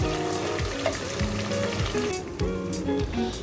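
Steady, busy sizzling of a medium onion frying in hot oil, with bubbling crackle throughout and occasional soft stirring or scraping in the background.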